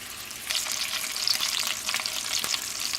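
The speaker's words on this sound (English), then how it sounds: "Let me move them around here in the pan a little bit, just to make sure that these get brown too." Smoked sausages sizzle and spit in a hot pan while being nudged around, a bright steady crackle with small pops and faint scraping of the pan.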